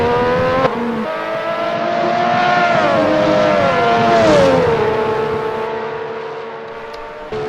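A Lotus 98T Formula 1 race car braking at Hockenheim, its loud, steady engine note sliding downward in pitch as it slows, with no talk over it.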